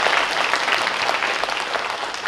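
Keynote audience at a political speech breaks into steady, dense applause, a full room clapping continuously throughout with no voices over it.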